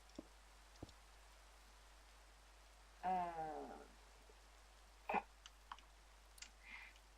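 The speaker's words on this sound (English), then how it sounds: "Sound of the rain is just like really nice." Rain falling in the Minecraft modpack All The Mods 3 makes a faint, steady patter under scattered clicks and ticks, with a brief voice-like sound partway through.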